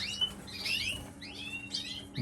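Several small caged birds, breeding canaries among them, chirp and tweet in short bright bursts, fairly close and moderately loud over a steady low hum, with no talking.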